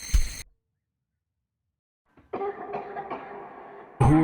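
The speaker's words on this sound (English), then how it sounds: "Whoever's coughing up blood, more than likely." Coughing from a character coughing up blood in the horror game Fire in the Dark: a short harsh cough, then silence, then a longer run of rough, close hacking coughs, and a sharp final burst at the end.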